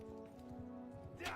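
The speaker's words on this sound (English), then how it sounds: "Horsey." A horse in Bannerlord clip-clops at a steady trot, its hoof beats rhythmic and fairly close over a low humming backdrop, with a brief louder burst near the end.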